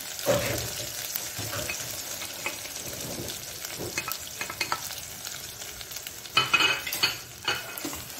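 Chili, salt and turmeric being roasted in a pan with ginger and garlic for an eggplant fish curry: a steady sizzle with repeated scraping stir strokes, louder clattering near the end.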